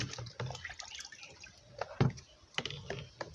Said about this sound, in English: I want to wash this rice.